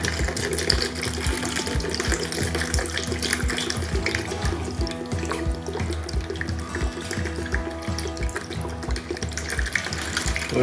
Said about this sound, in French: je vais mettre à peu près un demi-litre de vinaigre.